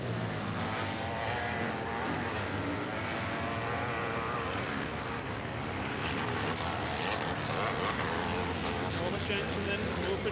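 Big Yamaha racing motorcycle engines at a 1984 AMCA round of the IMBA motocross championship roar continuously, loud and dense, while a commentator talks over them throughout.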